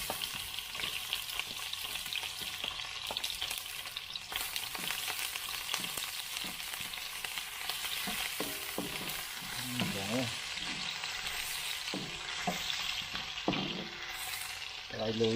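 Garlic and onion sautéing in a pan for a tilapia ginataan, giving a continuous crackling sizzle with intermittent stirring scrapes, fairly close and moderately quiet.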